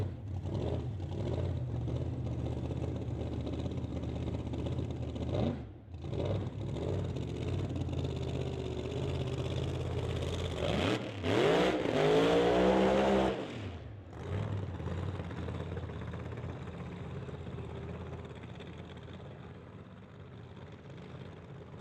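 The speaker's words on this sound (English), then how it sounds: "So burnout complete to heat up the tires, clean up the tires, and also start setting the clutch" A 1954 Studebaker drag car with a 500 cubic inch engine at an old-time drag racing event, its engine idling steadily and then roaring up through a loud rising burnout rev before dropping back to a rumbling idle.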